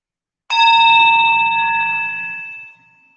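A single meditation bell is struck once, ringing out clear and loud with bright sustained overtones that slowly fade over about two seconds before stopping, with no voices.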